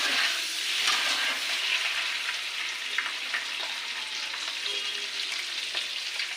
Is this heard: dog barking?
no